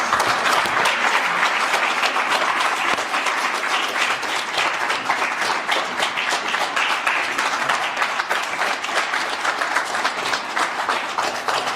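Audience applause at a learning centre graduation ceremony, loud and close, a thick continuous stream of clapping from many people lasting the full length without pause.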